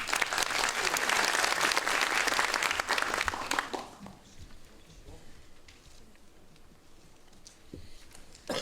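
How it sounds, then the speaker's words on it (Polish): An audience at a lecture event breaks into loud, dense applause that fades after about four seconds to scattered claps and room noise. "Brawa wielkie!"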